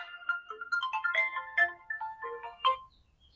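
A mobile phone rings with an incoming call, playing a clear melodic ringtone of bright, tonal notes in a quick tune that fades out near the end.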